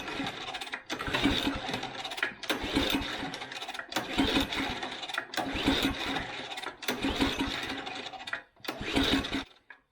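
An old Tecumseh go-kart engine is cranked over in five repeated bursts of loud, rattling mechanical churning, with short pauses between them and no firing or voices.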